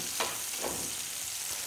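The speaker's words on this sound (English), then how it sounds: "I'll saute the onion until it's caramelized" Onion sautes in a pan for a roasted tomato omelet, a steady close sizzle with a couple of brief stirring scrapes near the start and no voices.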